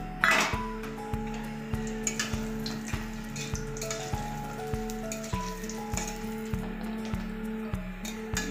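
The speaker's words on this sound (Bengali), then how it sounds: "মাছ ভাজার তেলেই আমি বড়িগুলো ভেজে নিচ্ছি।" Lentil dumplings (bori) sizzling in leftover fish-frying oil in a pan, a soft continuous crackle and spatter with a faint rhythmic knocking repeating about twice a second throughout, no voices.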